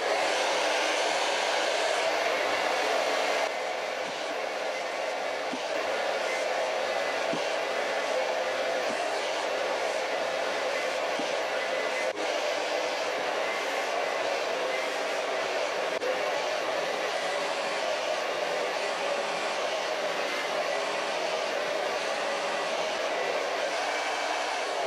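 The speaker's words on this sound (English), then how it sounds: "I use a wool super dryer, ionic hair dryer as well for faster drying and lower heats." An ionic hair dryer blows steadily throughout while blow drying hair, a continuous broadband whoosh that hardly varies in level, with faint background sounds now and then.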